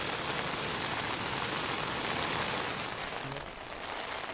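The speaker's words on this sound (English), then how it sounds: "It's pouring with rain out there." Heavy rain pours onto a tent, producing a dense, loud, unbroken hiss of drumming drops that holds steady throughout.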